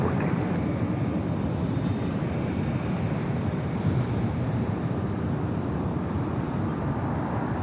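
A heavy Boeing 767 takes off from runway 25 right at LAX, a sustained mid-distance jet engine roar that stays even and unbroken, with no talking.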